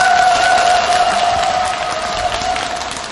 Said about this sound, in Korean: 박수를 치려면 신나게 치소.